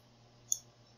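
A single tiny, sharp click from a lock pin being picked inside a Master Lock 570 stands alone over a faint steady hum, close and quiet.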